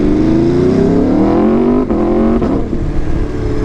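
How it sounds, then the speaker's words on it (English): An Aprilia RSV4 RF sport motorcycle engine revs hard and climbs in pitch, loud and close, with a brief dip before it roars on again. "this is a very exciting motorcycle. It's how bikes should sound."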